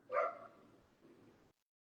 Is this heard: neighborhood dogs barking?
yes